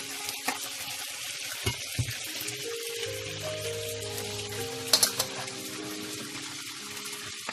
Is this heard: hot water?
yes